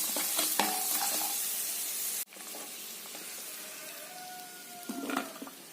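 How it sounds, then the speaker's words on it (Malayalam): Washed rice fries in ghee in a pan for beef biryani, a bright continuous sizzle broken by a sharp stop partway, then quieter frying with stirring scrapes near the end. "ഇത് കോരി മാറ്റിയിട്ട് റൈസ് ആദ്യം ഇട്ട് വറക്കാം"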